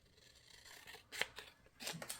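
Scissors snipping through paper while making scrappy notebooks, a few quick cuts spaced across a couple of seconds, fairly close and moderately loud with no talking.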